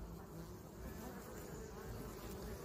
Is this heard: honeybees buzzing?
yes